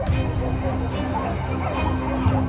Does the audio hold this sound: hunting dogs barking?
yes